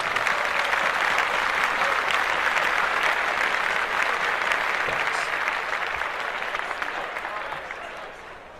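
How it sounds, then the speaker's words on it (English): A crowd at a hip hop talent show winner announcement claps loudly and steadily, a dense wash of applause that tapers off gradually toward the end. "We're gonna clap that up."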